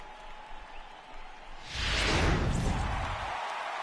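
A home crowd in the MLB The Show 18 baseball video game swells from a low murmur into a loud, sustained roar of cheering after a win.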